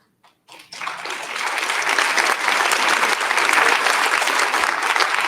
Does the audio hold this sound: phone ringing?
no